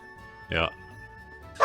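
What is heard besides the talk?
dog barking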